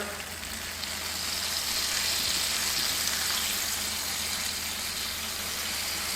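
Butter melting on the hot plate of a Ninja Foodi XL grill, a steady broad hiss and sizzle that swells slightly and holds, heard close with a low fan-like hum underneath and no talk.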